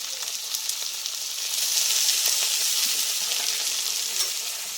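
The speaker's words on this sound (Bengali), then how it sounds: "শিম বেগুন আমি 2 মিনিট মতো ভেজে নিয়েছি।" Flat beans and chopped eggplant fry in oil in a pan, a loud, close, continuous hissing sizzle that swells slightly midway, with no voices.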